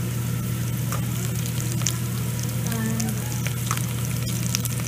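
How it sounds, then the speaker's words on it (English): Green chilies frying in a pan for vegetable biryani, a loud continuous close sizzle with faint stirring scrapes and no talk. "After that we add green chilies and chopped tomatoes. Now I'm going to add green chili."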